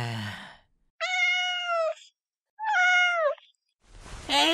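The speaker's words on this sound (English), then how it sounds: "what a cute yet fat cat" A fat old cat gives two drawn-out meows, each close and clear and about a second long, with a short pause between them and a breathy sound at the start and end.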